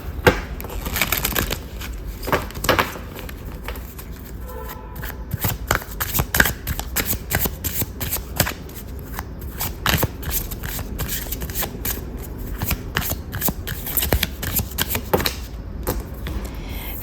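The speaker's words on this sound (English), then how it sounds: "Let's give our deck a little shuffle." A deck of tarot cards is shuffled close up, with rapid papery riffles and slaps coming in uneven bursts for about seventeen seconds, and no talking.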